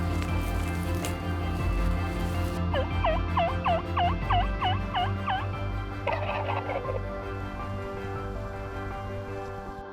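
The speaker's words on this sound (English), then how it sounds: "Calling turkeys, that was something totally new to me with a speaker like this as well." A run of about nine rapid turkey gobbles from an electronic caller, followed by a shorter burst of gobbling, over a steady background hum.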